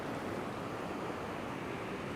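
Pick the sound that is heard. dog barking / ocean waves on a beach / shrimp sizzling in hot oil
ocean waves on a beach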